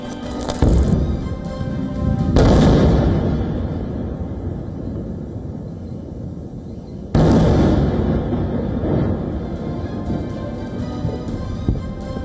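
Artillery fire and projectile impacts in war news footage: two heavy booming blasts several seconds apart, each a loud sudden burst that rumbles and slowly dies away, with no speech.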